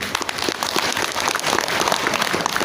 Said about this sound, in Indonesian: Kasih tepuk tangan sekalian.